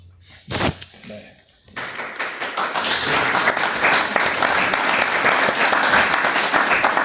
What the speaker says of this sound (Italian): qua l'applauso te lo meritavi tutto